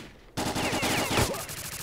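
A rapid burst of automatic rifle fire in the video game S.T.A.L.K.E.R.: Call of Pripyat erupts after a brief quiet moment, shots rattling in quick succession and continuing to the end.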